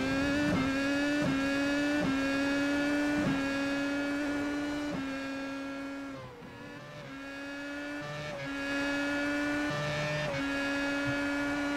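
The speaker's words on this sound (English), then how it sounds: "So that's what the lap looks like around this Donington Park circuit, behind the wheel of one of these Williams Toyota 2009 Formula 1 cars" A Williams Toyota 2009 Formula 1 car lapping Donington Park in a racing sim, its high-pitched engine note climbing through gears with sharp shift breaks, dipping briefly under braking before revving hard again, steady and close throughout.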